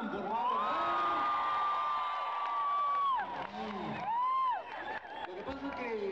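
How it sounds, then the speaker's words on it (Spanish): Audience at a Semana Santa cultural festival in Pahuatlán, Puebla, cheering and whooping, with long shouted and sustained vocal calls over a faint crowd, fairly distant and moderate in level. "Ahora que aplaudan los que no son de Pahuatlán, por favor."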